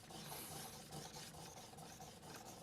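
A knife is sharpened on a REHOO 10000 grit resin bonded diamond stone, giving a faint, steady scraping rasp of repeated strokes, quiet and close with no talk.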